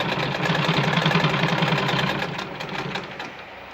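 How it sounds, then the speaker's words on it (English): A Singer Model 15 sewing machine stitching through about eight layers of denim, running in a fast, steady mechanical chatter up close, then slowing and fading slightly toward the end. "that's like 8 layers of denim, and it's still sewing it with ease, no breaking in the thread and all that"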